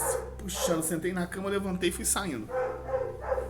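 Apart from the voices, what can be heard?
neighbor's dog barking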